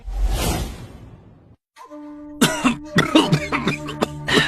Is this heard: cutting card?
no